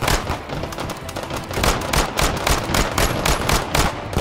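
Loud, close gunfire in the H3VR virtual reality shooter game, a fast string of shots in rapid bursts that continue throughout, with no speech.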